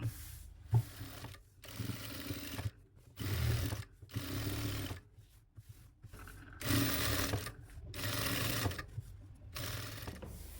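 A sewing machine stitches lace onto the neck of a nighty, running in several whirring bursts of a few seconds each, separated by short silent pauses, close and moderately loud.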